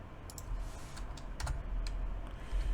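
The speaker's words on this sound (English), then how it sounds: "now let's type this" Soft, close keystrokes on a computer keyboard as Linux commands are entered, a few scattered clicks and short bursts at a quiet level with no talk.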